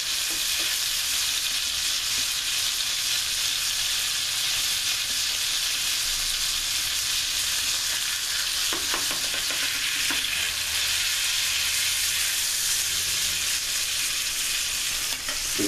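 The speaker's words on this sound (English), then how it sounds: "We're going to add our patties now." Salisbury steak patties frying in butter in a pan give a steady, bright sizzle that runs unbroken, with a few sharper crackles and spatters midway and no talking.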